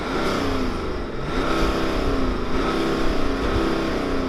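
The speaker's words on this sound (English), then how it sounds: "Let's hear the X4 rev." A BMW X4 M40d diesel SUV revving hard: a loud, steady, rich engine roar held for several seconds with slight rises and dips in pitch.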